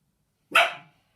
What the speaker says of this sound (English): There's that bark.